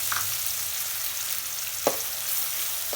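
Finely chopped onions frying in mustard oil over medium heat with mustard seeds and chillies, giving a dense, even sizzle and a few faint utensil taps.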